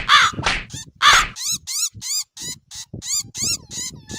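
A cartoon crow caws in a steady series of about ten harsh, close calls at an even rhythm, standing alone with nothing else in the mix.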